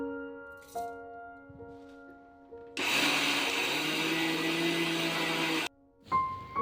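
A blender grinds rice soaked overnight. The motor cuts in with a loud, dense roar that runs for about three seconds and stops abruptly, then gives a brief second burst. Quieter kitchen tones come before it.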